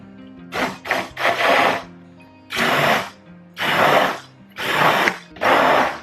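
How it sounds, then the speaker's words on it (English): An immersion blender whirs in repeated bursts through dairy-free ranch dressing, five or six short loud pulses separated by brief pauses. "Get my immersion blender and I stick it in there."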